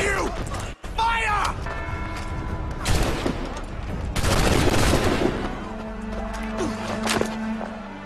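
A musket volley erupts in Assassin's Creed 3, a video game set in colonial Boston: a ragged cluster of loud overlapping shots with crackling echo and rumble, followed by scattered reports and clatter, with voices among the din.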